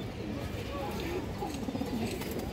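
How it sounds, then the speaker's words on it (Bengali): Gorra pigeons cooing softly in a series of low, repeated coos over a faint background hum, with someone talking nearby. "এই যে দেখেন সারাসারি লাইনের গররা কবুতর, পুরনো লাইনের কবুতর"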